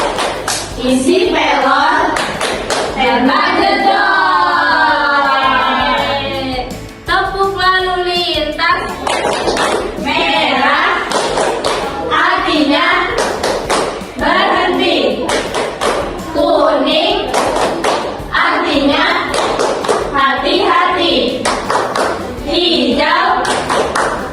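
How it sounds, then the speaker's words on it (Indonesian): Children and a teacher in a classroom perform the tepuk polisi police clapping chant, rhythmic hand claps and thumps mixed with chanted voices, loud and close, with singing-like speech throughout. "Yuk kita sekarang tepuk polisi"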